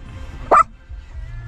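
A single short, sharp bark from an excited dog at a busy park entrance, close and loud against a quiet background.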